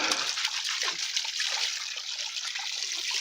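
Water trickles and splashes steadily in a continuous light rinse, close by with no voices.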